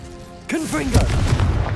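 After a brief voice, a Confringo spell in Hogwarts Legacy bursts into a loud, booming explosion with crackling debris and rumble that sustains for over a second.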